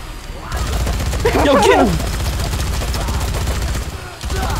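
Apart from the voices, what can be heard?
Gatling gun firing in the video game Dead Rising 3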